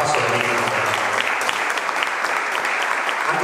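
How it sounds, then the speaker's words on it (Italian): Steady, loud applause from a concert audience at Cantine Pellegrino, dense clapping filling the whole stretch without a break. "Quindi un applauso per me."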